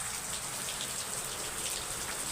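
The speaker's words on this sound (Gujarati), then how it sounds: "વરસાદ ચાલુ છે" Steady rain falls on an open farm field, a dense even hiss of drops with no breaks, moderately loud and uniform throughout, with no voices.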